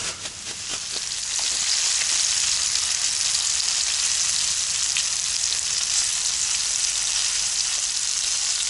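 Loud, steady sizzling of crucian carp frying in a hot pan, a dense hiss that swells in the first second and then holds constant.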